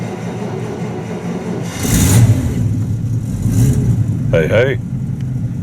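A 1950 Buick Roadmaster engine cold-starts and settles into a low, gentle idle, loud and near, with a brief rev swell after the start. A person calls out briefly over the running engine.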